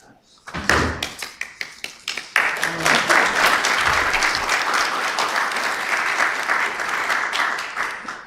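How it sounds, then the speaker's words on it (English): Attendees at a Riverside County Board of Supervisors meeting break into sustained applause after a 5-0 vote, starting with a few scattered claps that swell within seconds into dense, steady clapping filling the room. "We're sitting here clapping"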